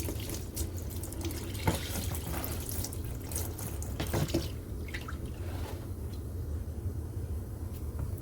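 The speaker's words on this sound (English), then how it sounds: "there is the drain plug out. I'm just going to go ahead and let this drain for quite a while." Transmission fluid drains from the plug hole of a Jeep Patriot in a steady, continuous pouring trickle, close and moderately quiet, with a few faint clicks and no talking.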